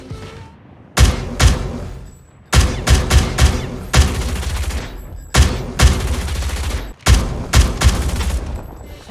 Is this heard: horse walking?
no